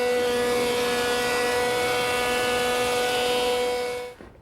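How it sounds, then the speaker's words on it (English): A surface planer feeds reclaimed wood boards with a loud, steady machine whine and drone that holds evenly, then cuts off abruptly near the end. "run these pieces through my surface planer until I get them down to the thickness"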